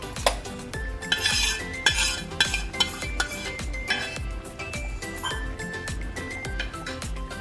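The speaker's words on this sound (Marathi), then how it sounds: "आता हे जे तडका आहे आपल्याला ॲड करायचा आहे यामध्ये." Spinach simmering in a buttermilk curry as a hot tempering is added and stirred, with repeated clinks of a metal spoon against the pot over a steady low hiss, close and moderately loud, with no talking.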